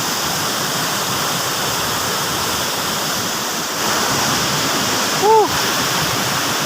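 Waterfall at San Ildefonso in the Sierra Madre near Baler, a steady broadband roar of falling water close by, with a person's brief cheer near the end.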